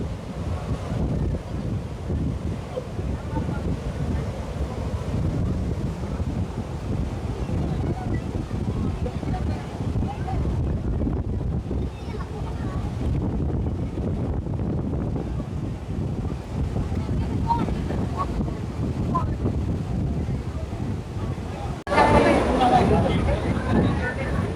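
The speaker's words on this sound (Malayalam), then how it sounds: "എന്താ നല്ല കാറ്റുണ്ട്" Strong wind at Athirappilly waterfall buffets the microphone in a steady, loud, low rumble that continues throughout, with voices faintly underneath.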